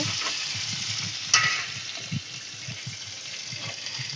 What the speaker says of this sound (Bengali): হালকা ভাজবো তাহলে তরকারিটা করে নিই ভেজে